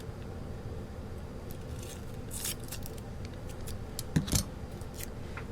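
Tape being cut in half with a pair of scissors, a few brief snipping clicks at close range over a steady low background hum, with the sharpest snip near the end.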